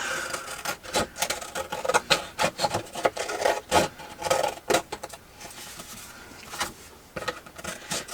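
Paper ephemera being trimmed by hand, with a run of close, dry cutting and rubbing strokes in an irregular rhythm and no talking.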